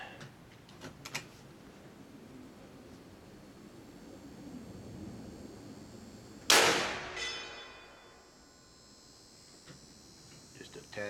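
A single sharp shot from a big bore air rifle firing a heavy projectile, loud and abrupt, then a ringing decay over about a second amid quiet outdoor background.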